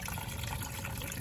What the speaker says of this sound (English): let me crack that open and we'll start draining the coolant